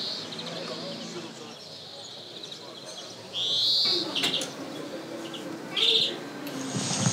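Bright bird calls ring out in short bursts over steady background noise and faint murmuring, with a louder, fuller call standing out near the middle and end.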